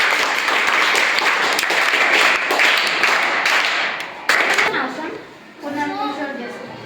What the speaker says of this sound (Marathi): याच्यासाठी परत एकदा जोरदार टाळ्या वाजवायचा